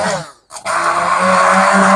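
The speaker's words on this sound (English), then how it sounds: "I'm just going to use this hand blender to" A hand blender whirs steadily after a brief pause, its motor buzzing loudly and continuously as it churns through thick vegetable soup.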